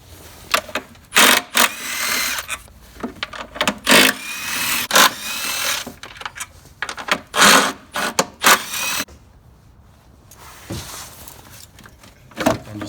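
A wrench works on the 10 mm intake bolts of a Ford 5.4 or 4.6 engine, giving a series of close, scraping ratchet clicks and metallic turns in irregular bursts with short pauses between.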